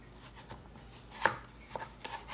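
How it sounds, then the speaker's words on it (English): A knife slices through zucchini on a cutting board, one crisp cut standing out in the middle followed by a couple of lighter taps, all quiet and close with no talking. "So now we're just gonna wanna cut our zucchinis in half."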